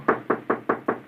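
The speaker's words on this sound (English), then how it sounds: "he knocks on the senator's door" Five evenly spaced, firm knocks on a door in an old radio drama, each a sharp rap with a short decay, delivered in a quick steady rhythm close to the microphone.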